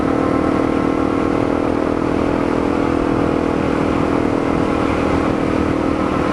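Honda CRF250L dual sport motorcycle riding on back roads, a loud steady single-cylinder engine drone with constant wind rush, heard close from the rider's position and unbroken throughout.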